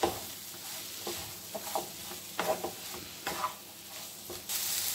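Red, green and yellow capsicum stirred and frying in a pan: steady soft sizzling with repeated spatula scrapes and stirring strokes, fairly quiet, close up, with no talk.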